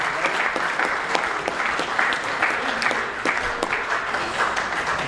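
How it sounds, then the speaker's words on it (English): An audience at a grand-final footy show awards night gives a sustained round of applause for two award-winning players, dense steady clapping from many hands. "A round of applause for those two gentlemen."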